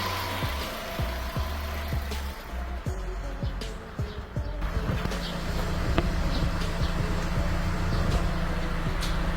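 A Chevrolet Gentra/Cobalt engine, just repaired with a replaced exhaust valve, runs steadily at idle with a continuous low rumble and light ticking, heard fairly close with no talk.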